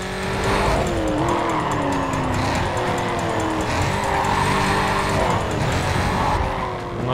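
A race car engine roars at full throttle in the racing game NFS Carbon, loud and sustained with rising and falling pitch through gear changes, along with tire squeal and skidding.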